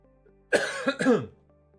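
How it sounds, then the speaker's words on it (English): A short, close cough of two or three quick rough bursts from an adult man who is still recovering from an illness, followed by quiet. "got a little bit of a cough still"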